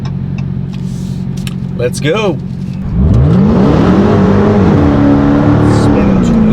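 A 2020 Dodge Challenger SRT Hellcat Redeye's supercharged engine roars up hard at about three seconds, revving loud with rising and falling pitch sweeps, after a brief spoken exclamation over idling rumble.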